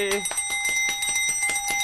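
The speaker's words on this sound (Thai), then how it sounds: "กดกระดิ่งเรียกซับหน่อยครับ" A bell sound effect rung to call subscribers, a rapid run of bright metallic rings repeating quickly in a steady rhythm, with someone talking over the start.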